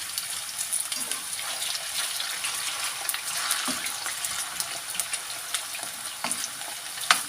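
Potatoes frying in hot oil for a Turkish mixed fried vegetable dish, a steady close crackling sizzle with scattered pops throughout and no talking.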